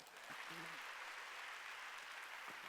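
A church congregation applauds during a Wednesday worship service, producing a soft, steady wash of clapping heard from a distance, with a brief faint tone near the start.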